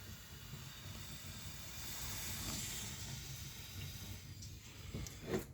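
Water running steadily over the trunk of a Honda FD6 during a leak test in a garage, a continuous soft hissing wash, fairly faint and even, with a brief louder splash near the end and no talk.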